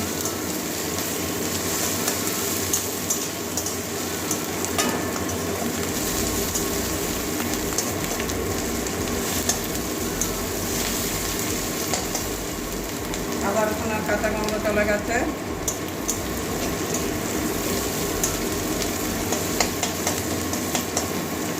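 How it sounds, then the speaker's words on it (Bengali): Whole cardamom pods, cloves and two pieces of cinnamon fry in hot oil in a pan, a steady close crackling sizzle that runs on without pause. "গোটা গরম মশলা দিয়ে দিচ্ছি দুটো এলাচ দিয়েছি দুটো লবঙ্গ দিয়েছি দুটো দারচিনি দুটো টুকরো দারচিনি দিয়েছি"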